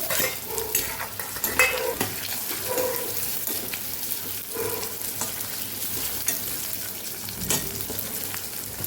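Green chillies, ginger and potatoes sizzle steadily in a hot pan, with scattered spoon-stirring scrapes and clinks over the continuous frying hiss; no talk.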